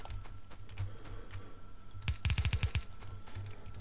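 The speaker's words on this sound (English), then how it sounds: "just shoot them with a shotgun" Shotgun blasts clearing rocks in the Factorio video game: a quick burst of about six sharp, loud shots in a rapid rhythm, set over steady low game hum and faint clicking.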